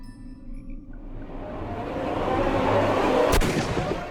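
A single sharp gunshot cracks out near the end in a Sherlock Holmes video game, loud and abrupt over a swelling rumble of game ambience, with no talking.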